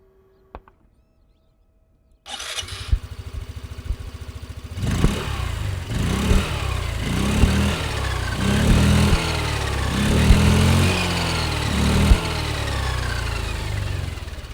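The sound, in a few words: Hero Destini 125 scooter engine starting and exhaust note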